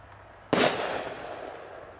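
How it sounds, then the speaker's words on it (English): A firework artillery shell, a special effects type from a consumer super bomb shell set, bursts in one sudden loud crack, its sparkling crackle trailing off over about a second and a half. "a special effects shell. There's interesting shapes and designs as well as colors."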